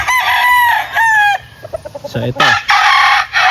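Chickens at a farm where many birds are kept, a rooster crowing in long harmonic calls followed by quick clucks, close and loud, with someone speaking briefly.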